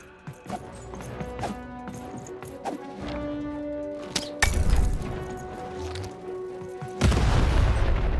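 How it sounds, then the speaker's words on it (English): Heavy cannon blasts boom in the video game Lost in Random, two big thudding explosions landing among clattering hits and tonal game effects, loud and close. "Shoot the button to fire the cannon."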